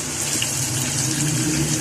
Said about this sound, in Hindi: अब इसमें पानी डाल लेती हूँ।